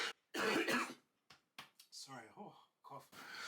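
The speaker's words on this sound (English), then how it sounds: "cough." A man gives a sharp, loud cough, then a smaller throaty one, before carrying on talking about football.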